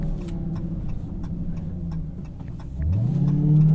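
A 2022 Dodge Charger SRT Hellcat accelerating at half throttle from inside the cabin, a steady low engine drone that swells and climbs in pitch toward the end, with faint ticking above it and no talking.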